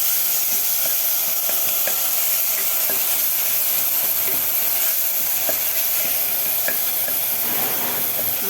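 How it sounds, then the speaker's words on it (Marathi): Grated onion with spices sizzles steadily in a pan for mutton paya soup, a continuous frying hiss with intermittent scraping clicks from stirring, close and alone without talk. "मसाले आपले छान कांदा वगैरे थोडंसं परतून घेतलेलं आहे"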